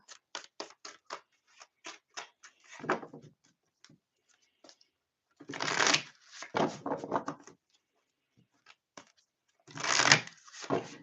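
Tarot cards riffled and shuffled by hand in bursts of quick papery flicks, with longer rushing shuffles around the middle and end, close and fairly quiet with pauses between.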